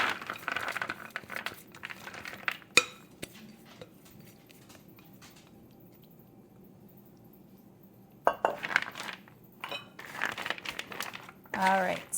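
Seasoned nuts are tossed in a bowl with bursts of rattling, clinking and crinkly scraping, a long quiet stretch between them, then renewed vigorous clattering near the end, close by.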